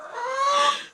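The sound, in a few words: chickens clucking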